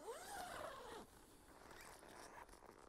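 A zipper on a Lone Rider adventure motorcycle tent is pulled in one long rasping stroke, close and fairly loud, followed by softer fabric rustling and scraping.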